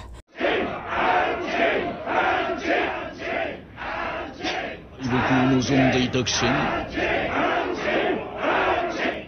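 A crowd of prisoners cheers and shouts in support of Oliver, a loud sustained roar of many voices with rising yells and chant-like bursts throughout.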